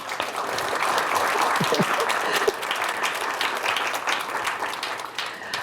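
Sustained audience applause fills a panel discussion on early childhood education and care integration, a dense steady clapping from a sizable crowd lasting the whole stretch with no speech over it.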